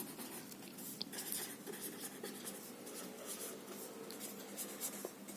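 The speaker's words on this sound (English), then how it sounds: "So you have to write the formula now." Pen or marker writing a maths formula by hand on a surface in a classroom lesson, a steady faint scratchy rasp with short strokes and taps, close and alone without talk.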